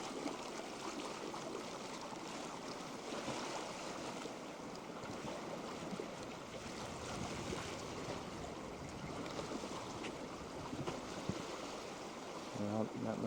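A sailboat running wing on wing through water at about 4.5 knots with a following tide, a steady broad rush of water and wind noise over the hull, continuous and even throughout.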